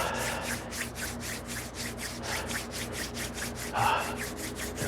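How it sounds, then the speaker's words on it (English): A pair of hands rubs together with rhythmic back-and-forth swishing strokes, about four per second, soft and close, against a faint low hum. "rub your hands together."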